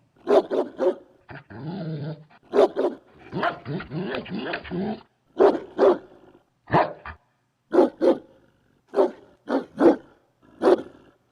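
A dog barks and growls over a 911 phone line from inside a stolen Mazda, giving a string of sharp, close barks broken by longer rumbling growls and snarls, heard alone.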